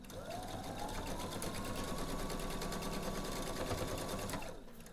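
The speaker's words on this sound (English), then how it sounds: "I'm going to sew" Sewing machine stitching straight along lined-up fabric edges, a steady close motor whir with rapid needle chatter running continuously for about four seconds before stopping, no voices.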